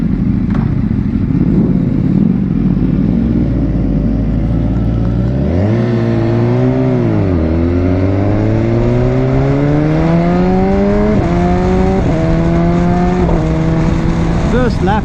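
A BMW S1000XR motorcycle engine drones loudly and up close while riding laps, starting with a steady low hum, then revving up and down through gear changes with rising and falling pitch amid constant wind roar.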